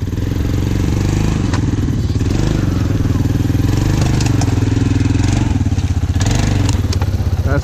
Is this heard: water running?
no